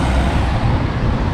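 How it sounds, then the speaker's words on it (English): Cars and vans coming round a roundabout in Morley, Leeds, with a dense, close engine rumble and tyre roar, loud and continuous, and a faint hiss like an air brake in the mix. "Car coming round, another car coming round"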